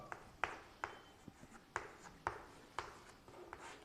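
Pen or chalk marks on paper or a board while solving a math problem, about a dozen short scratchy strokes and taps at an uneven pace, quiet and close, with no talking.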